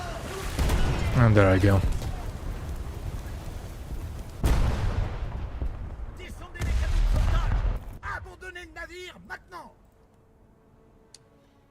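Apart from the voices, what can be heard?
destroyer shooting at player's ship in naval video game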